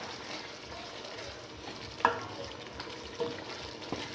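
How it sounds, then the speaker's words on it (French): Salted spaghetti stirred in a cooking pot, a steady wet simmering wash with a few soft scrapes and clinks of the utensil against the pot's side. "Et je vais remuer"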